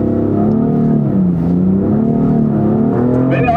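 A BMW M4 engine drones steadily and loudly from inside the car on the Bilster Berg race track, its pitch wavering as the throttle is worked and rising near the end.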